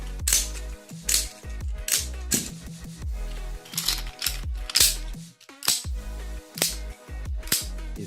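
Black Velvet balisong trainer flipped by hand, giving sharp, rich clacks in quick irregular bursts with short pauses between them, close up and clear.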